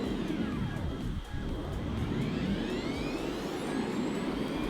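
A Roblox Greenville car's engine accelerating from low speed with a whining, spooling tone like an airplane motor, rising steadily and holding loud and close throughout, with no talking.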